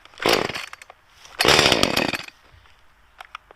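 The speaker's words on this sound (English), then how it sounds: "I officially have the chainsaw technique down. Pump a little gas through there, choke it, turn it on, big rev," Chainsaw cold start after priming and choking, two loud close bursts of engine roar and revving separated by a short pause, then dying down to faint sputters.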